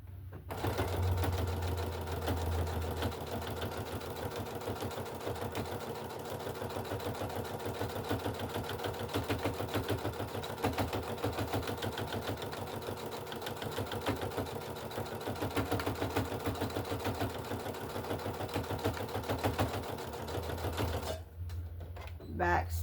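A sewing machine runs a back stitch to sew the bottom of a piece shut, a rapid, steady mechanical whir and clatter lasting about twenty seconds before it stops.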